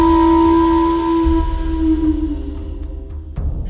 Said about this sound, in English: Be sure to operate the steam whistle before you leave.